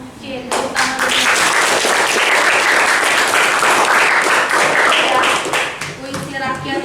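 Classroom applause from a group of students, a sustained burst of clapping lasting several seconds, loud and dense, with a few voices mixed in near the start and end.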